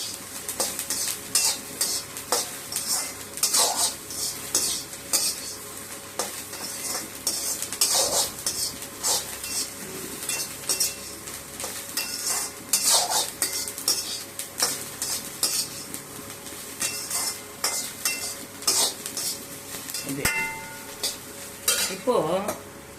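Ivy gourd sautéing in a pan, with a continuous sizzle broken by frequent scraping and clinking strokes of a spoon stirring against the metal, close and fairly loud, no voices.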